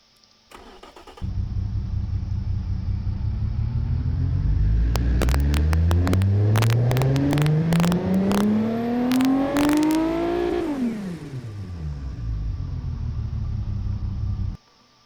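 Simulated car engine, tuned to about 348 horsepower, starts, then revs up steadily to a high peak and winds back down to idle before cutting off, loud and alone with no talk.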